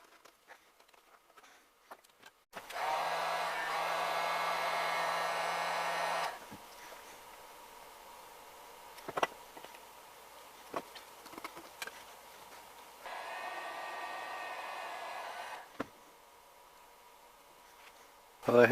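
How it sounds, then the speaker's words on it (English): Heat gun blowing hot air while shaping a Milwaukee M18 vacuum wand accessory, a steady airy rush switching on for a few seconds, then quieter handling clicks before a second blast of airflow. "I had to use the heat gun"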